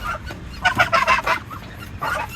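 Ducks kept as backyard poultry, one of them barely eating, give out a few bursts of loud, harsh honking calls close by, with short pauses in between and no talking.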